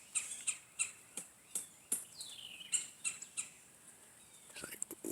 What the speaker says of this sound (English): Woodpecker and the big woodpecker not getting along there.